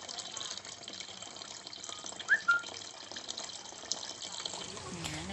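Fresh coconut water is poured out to make coconut milk, a steady close splashing trickle with a couple of brief squeaky tones partway through.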